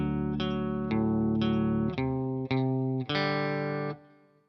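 A distorted electric guitar with chorus and echo plays a riff bar: a quick run of chunky chord hits, then a longer held chord that fades out, loud and close with no talking.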